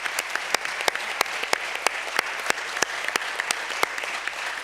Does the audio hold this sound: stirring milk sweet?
no